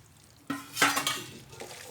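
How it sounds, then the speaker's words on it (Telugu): Biryani ingredients stirred with oil in a pot in a home kitchen, heard as close metallic scrapes and clinks of a spoon against the pot, a few strokes with a soft sizzle, no talk. "ఇప్పుడు మంచిగా కలుపుతాను."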